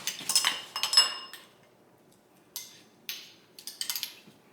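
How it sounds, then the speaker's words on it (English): Apple cider vinegar salad dressing whisked in a bowl, with quick bursts of clinking metal against the dish, two clusters early then a pause and several more scattered strokes, close and moderately loud with no talking. "I'm just going to whisk it together"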